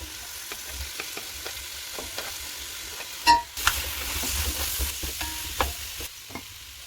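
Tomato and chilli drop into a pan of frying potato, setting off a sudden burst of sizzling that stays louder, with rhythmic scraping and tapping of a stirring spoon throughout, close up and without speech.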